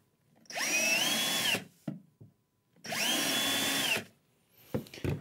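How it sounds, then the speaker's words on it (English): A power drill whirs in two steady bursts, each about a second long, with brief clicks and handling noises between and after. "remove it and then pre-drill with your drill."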